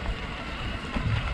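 Strong wind buffets the microphone near a mountain pass in the western Alps on a bike trip, a constant loud rushing roar with low gusty thumps.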